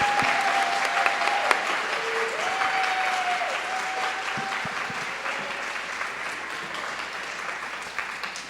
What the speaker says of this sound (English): please a round of applause for Creative Science here